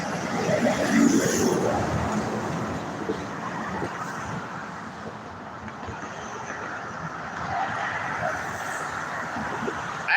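Road traffic streams along Walnut Avenue in Dalton, Georgia, a continuous loud rushing roar of passing vehicles that swells and eases over about ten seconds.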